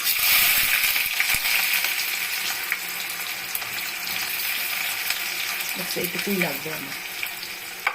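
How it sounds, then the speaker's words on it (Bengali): Onions fry in smoking-hot oil in a wok for egg curry, a steady close sizzle with light clatter from stirring, and someone speaks briefly over it. "তো এই অবস্থায় আমি অল্প পেঁয়াজ বেরেস্তা করে রাখবো"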